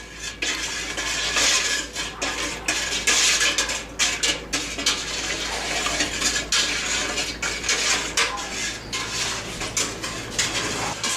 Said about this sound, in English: And then we're just going to stir it until it's dissolved.